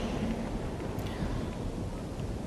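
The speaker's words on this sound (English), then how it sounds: "Sounds very windy." Steady wind roars across an outdoor video game landscape, a constant broadband rush with slight gusting, loud and alone throughout.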